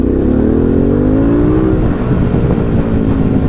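A Harley-Davidson Pan America motorcycle accelerates hard, its engine note climbing steadily in pitch for nearly two seconds before settling into a loud, close, continuous roar with wind rush.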